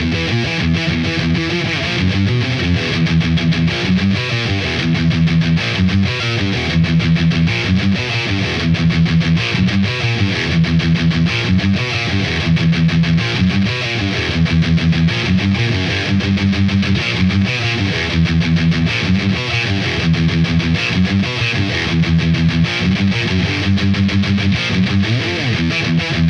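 Heavily distorted electric guitar chugs through a verse riff, a tight, loud metal pattern that repeats in steady cycles for the whole stretch with no talking.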